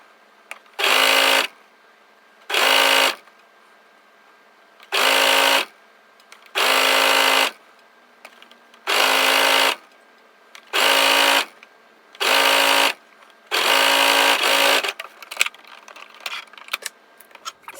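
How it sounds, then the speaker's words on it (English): A sewing machine stitches around a jersey hem in eight bursts of steady whirring, each lasting one to two seconds and separated by brief pauses, close and clear with no voices. "I'm just going to sew all the way around."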